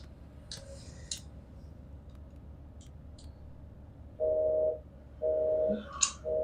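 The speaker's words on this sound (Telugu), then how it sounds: "ఎంగేజ్ వస్తుంది." Phone busy signal in a film scene: after faint clicks, steady beeping tones sound in repeated pulses of under a second each, separated by short gaps, over a low background hum.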